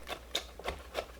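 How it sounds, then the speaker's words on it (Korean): A few sharp knife chops on a cutting board, about four irregular strikes, close and moderately loud. "새우를 다집니다."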